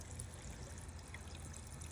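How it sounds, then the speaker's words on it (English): Water is forced under pressure through a 10-port manifold in a screed floor heating system, giving a continuous rushing, trickling flow with a low rumble, steady and close throughout. "so the water can be forced through the system slowly but surely without getting any airlocks in"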